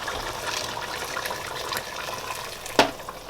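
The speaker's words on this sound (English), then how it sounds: "I am going to add more water and I'm going to add our rice" Water poured into a cooking pot of stewing oxtail makes a soft, steady splashing rush that stays low and even, broken near the end by one sharp clink, with no talking.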